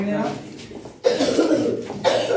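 Coughing at a birthday gathering, a sharp burst near the one-second mark and another around two seconds, loud and close, with voices and room noise around it.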